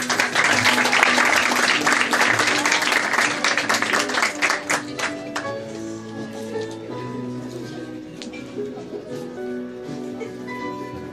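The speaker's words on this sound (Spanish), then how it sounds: "Aplausos, por favor." Guests applaud loudly at a quinceañera celebration, dense clapping that fades after about five seconds into softer background music with lingering scattered claps.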